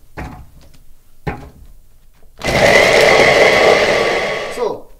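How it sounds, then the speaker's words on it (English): Onions whir loudly in an electric blender for about two seconds, a dense, steady motor roar that cuts off sharply, preceded by a couple of short clattering knocks, all while preparing a stuffing for wild sea bass. "So now I'm gonna mix the onions"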